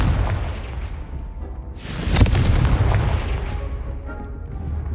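A Confringo fire spell bursts in Hogwarts Legacy, a loud booming explosion hitting around the middle of the clip and rolling off into a rumbling tail over continuous low game noise.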